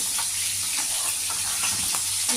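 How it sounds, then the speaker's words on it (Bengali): Small tengra fish fry in hot oil with a steady, close sizzle and crackle, interrupted now and then by the clink and scrape of stirring. "মাছগুলো হালকাভাবে আমি নেড়ে চলে নিলাম তেলে"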